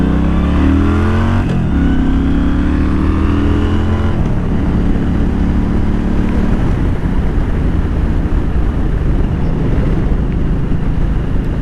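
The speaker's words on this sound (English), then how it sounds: "1300cc Yamaha engine." A Yamaha Stryker motorcycle with a 1300cc engine heads toward the freeway, its loud, close exhaust revving up through the gears with shifts, then settling into a steady roaring drone with wind noise.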